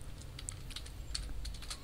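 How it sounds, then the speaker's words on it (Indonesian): Typing on a computer keyboard, entering a channel name in a font program: a quick run of light, irregular key clicks close by, quiet, with no talking. "Di sini saya akan mengetik nama channel ini ya"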